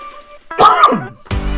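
A single harsh cough bursts out from someone sick, followed by a brief throat-clearing rasp, close and fairly loud with no speech.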